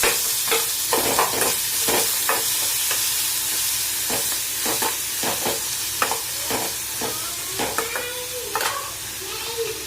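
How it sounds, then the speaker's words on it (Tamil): Onion, garlic and dried red chilies sauté in a pan with a steady close sizzle, broken by repeated sharp spatula scrapes and clacks against the metal as they are stirred. "வெங்காயம் பூண்டு வரமிளகா போட்டு நல்லா வணக்கிக்கலாம்."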